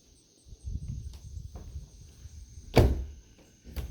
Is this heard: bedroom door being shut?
yes